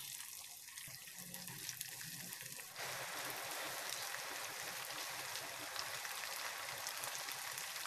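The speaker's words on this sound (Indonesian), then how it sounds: "goreng sampai kering juga sampai warnanya kuning kecoklatan" Dried anchovies frying in hot oil until golden brown, a steady dense sizzle that swells louder partway through and then holds, close and continuous with no voices.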